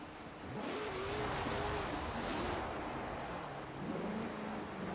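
Supercharged car engine in Forza Horizon 4 revving and holding a steady drone with a whining pitch that rises and dips, loud and continuous for the whole stretch.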